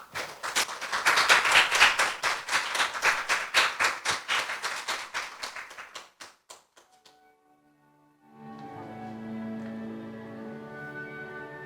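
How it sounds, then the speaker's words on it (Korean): Audience applause at a church gathering swells and fades over about seven seconds, ending in scattered last claps. After a short silence, sustained keyboard-like musical tones begin. "나오실 때 큰 박수 부탁드리겠습니다."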